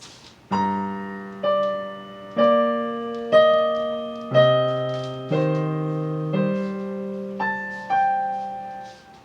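Solo piano plays one measure: about nine evenly spaced notes and chords, each struck clearly and left to decay, close and moderately loud with no voices.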